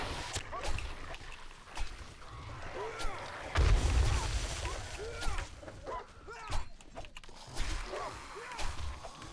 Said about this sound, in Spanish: Si queréis explosiones, yo todas las que queráis.